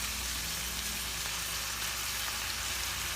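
Cabbage stir-frying in a pan alongside sliced carrot, a steady, dense sizzle that stays even and close throughout with no talking.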